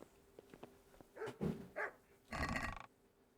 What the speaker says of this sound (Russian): Хватит гавкать